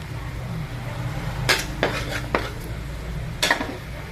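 A metal utensil clanks and scrapes against a pan during stir-frying with fresh milk and chilli paste: a few sharp knocks at scattered moments over a low steady background hum, with no talking.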